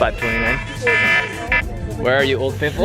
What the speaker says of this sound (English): That's my alarm for the geyser to go off.